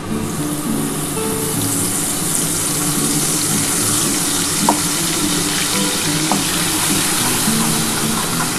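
A ground paste of mustard, poppy seed and green chilli fries in hot oil for a restaurant-style pabda fish curry. The sizzle is loud, dense and continuous, with a couple of faint utensil taps.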